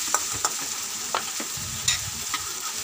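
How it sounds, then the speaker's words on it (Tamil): Tomato and onion paste sautés in hot oil for a chicken gravy, a steady close sizzle broken by several sharp scrapes of a spoon stirring the pan, with no talking. "எல்லாத்தையும் நல்லா ஆயிலே வதக்கிக்கிறோம்."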